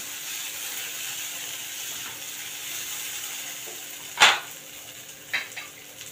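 Crumbled vadis being sautéed in a pan for a Marathi naivedya thali, with a soft steady sizzle and a sharp spoon scrape against the pan midway, followed by fainter stirring clicks.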